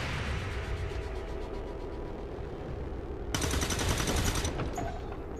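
Gunfire from a sniper in the video game XCOM 2: a steady, dense crackle of game battle noise, then a louder, harsher burst of shots lasting about a second before fading back into the ongoing din.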